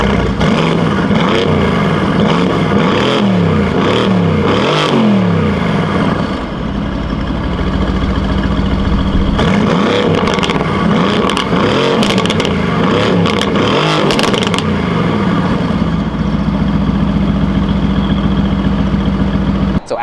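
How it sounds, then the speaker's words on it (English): A sports car exhaust with a modified system revs repeatedly in sport mode, rising and falling in sharp bursts between idling, loud and close, with crackles near the end. "First, we're gonna do revs in sport mode"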